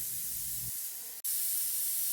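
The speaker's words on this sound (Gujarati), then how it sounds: "છથી સાત સીટી સુધી આપણે એને બાફી લેવાના છે" A steady, loud hiss of steam venting under pressure from a pressure cooker whistle while boiling ingredients for sev usal, continuous apart from one brief cut near the end.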